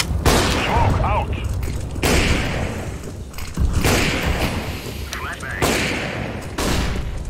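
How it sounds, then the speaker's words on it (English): Grenade blasts and gunfire in CS:GO on the Inferno map: repeated loud booming bursts with crackling shots, arriving in heavy waves every second or two, close and dense, with faint voices underneath. "I am throwing a grenade"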